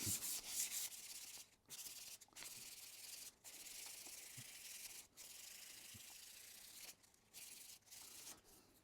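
Steady rubbing strokes of 400 grit sandpaper on an 18 millimeter fiberglass airframe tube, a close, dry scratchy hiss broken by short pauses between passes.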